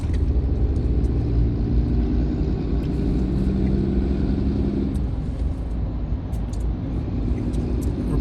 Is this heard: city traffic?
yes